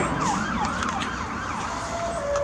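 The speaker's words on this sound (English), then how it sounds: "I hear sirens. We hear sirens, guys." Wailing emergency sirens rise and fall in the distance over steady traffic rumble, fairly faint.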